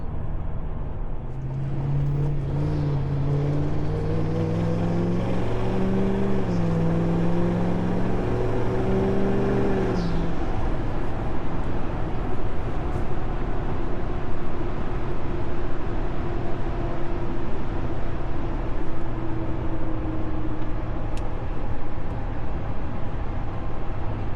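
Loud, steady exhaust drone from a truck fitted with a 5-inch straight-pipe exhaust, cruising under load in 10th gear at about 65 mph. Engine harmonics shift through the first ten seconds, then settle into a constant low droning hum with road noise, no talking.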